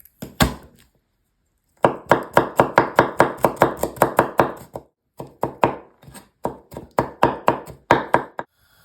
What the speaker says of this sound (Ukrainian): Беремо три зубки часничка і дрібненько нарізаємо.